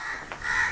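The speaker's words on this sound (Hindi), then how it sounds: "देख वो कौवा बोल रहा" A crow caws once, briefly and at middle distance, over a steady hiss of outdoor background noise in a village setting.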